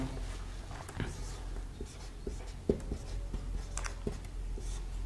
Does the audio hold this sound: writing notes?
yes